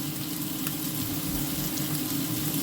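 Green beans sizzle in a pan after olive oil goes in, a steady, even crackle close up with a few faint scrapes, and no one talks.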